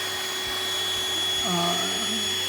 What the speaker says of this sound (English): Kind of vacuum it gently.